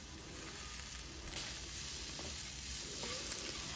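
Vegetables seasoned with salt and turmeric fry in a covered pan, a faint, even hiss of sizzling with light stirring scrapes, quiet and continuous throughout, no talking.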